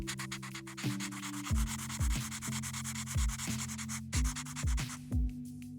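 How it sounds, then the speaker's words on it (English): A light brown crayon rubs across paper in quick, repeated back-and-forth strokes, close and soft, set against gentle background music with no talking. "let's color the main part of his body with light brown crayon"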